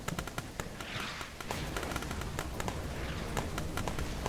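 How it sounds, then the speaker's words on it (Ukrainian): Dense, continuous battlefield explosions and gunfire crackle all around in the shooter game Glory To The Heroes, with sharp repeated blasts over a steady roar and no talk. "Так, вибухи навколо."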